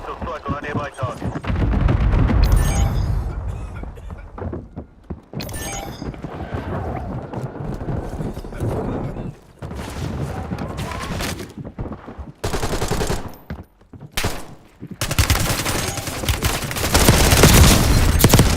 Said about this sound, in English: Missile strike on a nearby target.